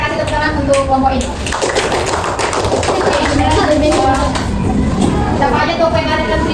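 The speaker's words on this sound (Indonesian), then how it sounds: "Oke, kita kasih tepuk tangan untuk kelompok ini." Classroom applause for a student group during a microteaching lesson, a burst of many hands clapping together, close and fairly loud, with children's chatter mixed in.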